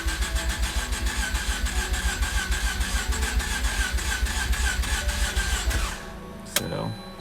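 A flooded Mazda RX8 rotary engine cranks steadily on the starter in a fast, even rhythm for about six seconds, then stops, followed by a brief sharp click and a short clatter.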